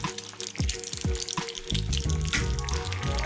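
Eggs cooking in bacon fat in a diner-style pan give a steady close sizzle and crackle, joined by a few low thumps and clatters near the start before the frying noise fills in loudly.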